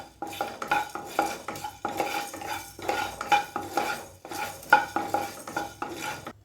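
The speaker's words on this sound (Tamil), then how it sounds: "இப்போ மிளகு ஆட் பண்ணிக்கிறேன். இதே நல்லா வறுத்துக்கலாம்." Black peppercorns are dry-roasted in a pan for temple-style puliyodharai, stirred in a quick, steady rhythm of close spatula scrapes with the peppercorns rattling against the metal, with no talk.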